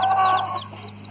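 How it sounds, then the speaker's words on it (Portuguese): Chicks peeping softly with a hen clucking nearby in a backyard coop, a few short close calls over a steady low hum, no talking. "vou mostrar melhor pra vocês, ó, os pintinhos"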